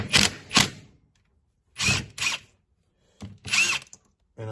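A power tool zaps off ring gear bolts on a 1990 Toyota pickup rear end: three pairs of loud, close, whirring bursts, each lasting about half a second, separated by short pauses.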